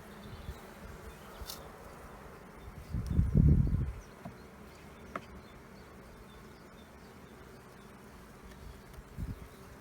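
Honey bees buzz faintly and continuously around an open hive during an inspection, a soft steady hum with one louder burst as a bee passes close, then a few brief nearer buzzes.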